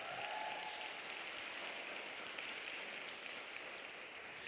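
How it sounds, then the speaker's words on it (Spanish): A church congregation applauds during a sermon, a steady, fairly faint wash of clapping that runs evenly through the whole stretch with no voices rising above it. "Dale un fuerte aplauso a Jesús."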